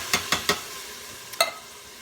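A spoon stirs canned diced tomatoes into a dish in a pan, making three quick wet scraping strokes, a pause, then two more, close and alone over a faint steady background hiss.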